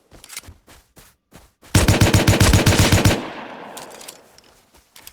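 Automatic gunfire in the game Rust on console: a few scattered single shots, then a loud, rapid sustained burst of about a second and a half that ends and leaves a fading echo, followed by more isolated shots.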